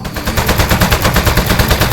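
Rapid, evenly spaced gunfire in the Aperture Desk Job video game, a loud continuous stream of shots with no talking.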